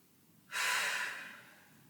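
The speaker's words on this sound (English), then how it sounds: "Some deep breaths there." One deep breath during a runners' stretching workout, a sudden close exhale that fades away over about a second.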